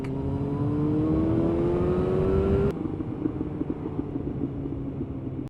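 A motorcycle engine under way with its rider, a steady revving drone climbing slowly in pitch, then easing abruptly into a lower, rougher rumble mixed with wind.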